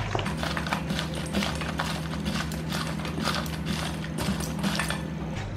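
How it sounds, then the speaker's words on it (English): Metal tongs clatter steadily against a bowl while seasoned okra is tossed, a dense run of close, busy clicks and scrapes that goes on without a break under a low hum. "I like to mix things like this with my tongs here."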